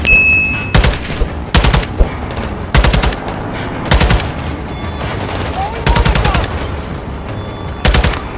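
Machine gun fire in the video game Call of Duty Modern Warfare 2, loud automatic bursts of roughly half a second each, repeated about eight times at uneven intervals with quieter battlefield ambience between them.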